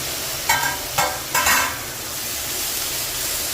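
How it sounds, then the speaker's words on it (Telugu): Boiled pasta is stirred with fried onions and vegetables in a pan, three quick scraping strokes over a steady close sizzle that then settles into a constant hiss. "బాగా కలుపుకోవాలండి."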